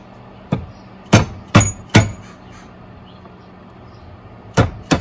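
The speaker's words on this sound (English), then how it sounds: "the plan is to hammer it through" Five sharp metallic hammer strikes ring out in an uneven rhythm as a bolt is driven through a rubber grommet on a Honda Pilot valve cover, close and loud, with quiet pauses between them.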